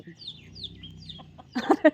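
Chickens clucking and chirping softly nearby, a few short calls, followed by a brief burst of louder sound.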